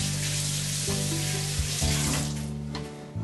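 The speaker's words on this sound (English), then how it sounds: "Gonna rinse my hands off quick." Hands are rinsed under a running tap while making venison brats, a steady close rush of water with a droning hum underneath that shifts partway through.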